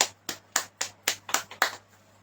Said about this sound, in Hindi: बोलो हालेलुया, ताली बजाएंगे सब जन।